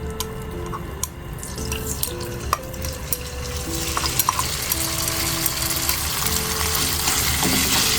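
Marinated shredded pork stir-fried in a wok, a sizzle that swells louder over time, punctuated by sharp metallic clacks and scrapes of the spatula, close and without voices.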